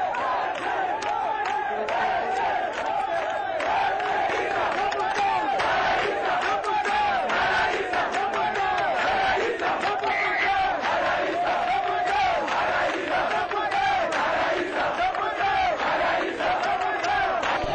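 Large, dense crowd in Mbuji-Mayi, Democratic Republic of Congo, cheering and chanting to welcome President Joseph Kabila, a continuous loud roar of many voices with no letup.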